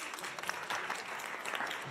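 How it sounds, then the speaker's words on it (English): Audience at a conference panel on networks and community giving a short burst of steady, moderately loud applause from a roomful of hands. "A round of applause,"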